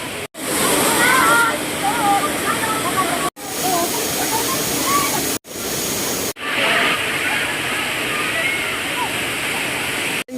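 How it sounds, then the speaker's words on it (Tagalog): Lambingan Falls in San Jose, Jabonga, a waterfall roaring as a loud, steady broadband rush of falling water close by, broken by a few abrupt cuts, with no clear talk over it. "malapit na kami sa main falls dito sa Lambingan Falls"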